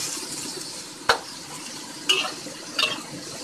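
Stirring Taiwanese chicken curry with carrots in a pan, three sharp utensil scrapes against the metal about a second apart over a faint steady sizzle, close and alone.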